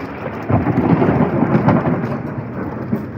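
Convective downpour in Naples, Italy, with heavy rain hissing steadily and a rolling rumble of thunder swelling and fading over a few seconds, close and loud with no voices.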